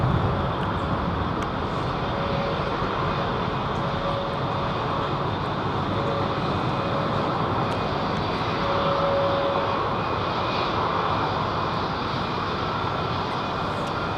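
Aircraft departing London Heathrow Airport give a steady, broad jet roar that holds loud and continuous throughout, swelling slightly near the end, with no voices over it.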